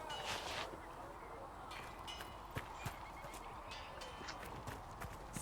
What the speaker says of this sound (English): Oh, that is a horse.